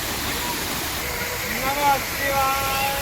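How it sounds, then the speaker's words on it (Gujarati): A mountain stream at Jatashankar Mahadev near Junagadh rushes in a steady broadband roar close by, while voices talk over the flowing water throughout. "પાણીના ઝરણા વહે છે"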